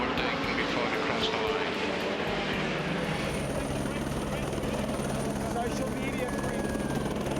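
A helicopter flies over the Le Mans race track, its rotor and engine a steady, loud, continuous drone with a rhythmic thump early on, while speech is faintly present under the noise.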